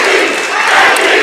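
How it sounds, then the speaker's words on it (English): A basketball crowd at a boys' JV game fills the gym with a loud, dense chant of voices, steady and continuous through the moment with no single voice standing out. "And now the chant of MVP across"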